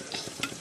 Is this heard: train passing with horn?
no